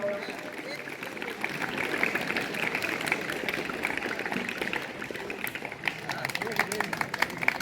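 Students at a school annual sports event clap, scattered applause rising from the crowd amid open-air chatter and a voice speaking over it.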